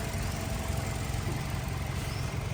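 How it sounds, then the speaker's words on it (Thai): A 2012 Toyota Altis with an automatic gearbox idles smoothly, a steady low engine hum with an even throb, close and continuous without voices. "เครื่องยนต์เดินเรียบเลย"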